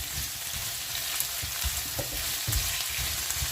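Carrots frying in a pan, a steady dense sizzle throughout with occasional stirring knocks and scrapes, close and fairly loud, no talking.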